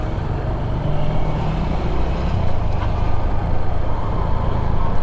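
Race cars at the Barber Small Bore Festival make a steady, loud, broadband engine roar and drone that runs continuously, with no voices.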